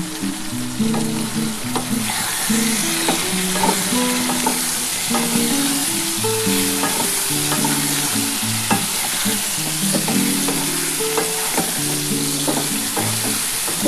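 Pointed gourd and potato are sautéed in a pan with spices and Kashmiri chilli powder, a loud, continuous sizzle with frequent rhythmic spatula scrapes and clatter throughout, close by and without talking.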